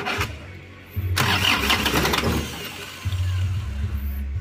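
A car engine cranks and fires after a new turbo cartridge has been installed: a loud nearby starter whir, then a rough catch and running, followed by a second crank and idle near the end.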